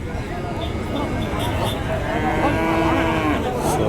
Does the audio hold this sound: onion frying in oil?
no